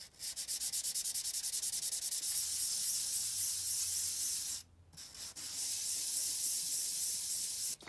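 Rust being sanded off the top and bottom of motorcycle piston rings with 1200 grit sandpaper on a Yamaha TTR125, giving a steady, close, rhythmic rasping scrub that pauses briefly midway and then resumes.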